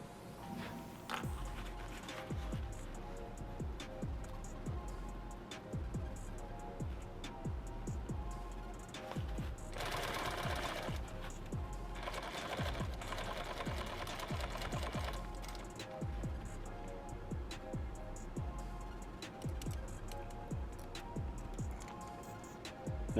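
Sewing machine stitching a 2 quart canteen cover, a fast steady run of needle clatter that pauses briefly and resumes, close and clear, with no talk.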